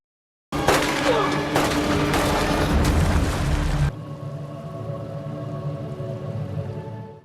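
A sudden loud burst of pistol-shot blasts with rumbling booms, abruptly cutting to a quieter low drone and hum.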